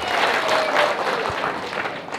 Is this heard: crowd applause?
yes